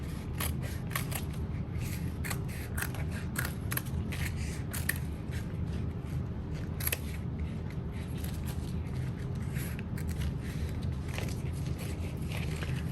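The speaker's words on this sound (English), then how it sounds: "you're going to cut away very carefully just the lining fabric away from the outer edge of the box" Scissors snip steadily through lining fabric along the edge of a canvas-covered box, a close, continuous run of small crisp cuts with no talking.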